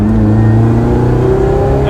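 A Lotus Elise Cup 250 Final Edition, still in its running-in period at about 1,300 miles, drones loudly and close by with a steady engine note whose pitch climbs slightly as it pulls, heard alone without any talking.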